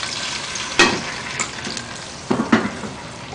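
Vinegar poured into hot spiced oil for chilli pickle sets off a steady close sizzle, with sharper bursts of crackling splatter as more liquid hits the oil.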